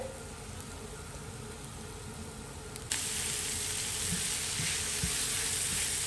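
Chopped onions sautéing in a pan with a pinch of salt, a continuous sizzle that jumps sharply louder partway through and then holds a bright, crackling hiss with occasional small pops.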